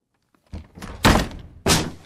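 A door is forced open with a few heavy, loud thumps and bangs, each a sharp impact followed by a short rattling decay, with no voices.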